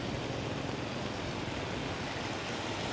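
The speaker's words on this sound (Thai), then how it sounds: "คือตอนนี้นะครับ น้ำไหลหลากมาแบบน่ากลัวมากนะครับ สีน้ำก็แดงนะครับผม" Muddy red flood water rushing past in a rainy-season flood in northern Thailand, heard as a steady, dense roar of turbulent water, constant and fairly loud throughout with no break.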